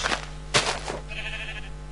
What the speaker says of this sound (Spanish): ¡Ovejitas! Son majas.